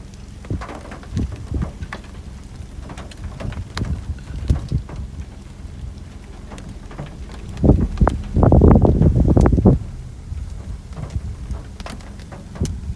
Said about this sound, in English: Kind of getting annoyed getting rained on.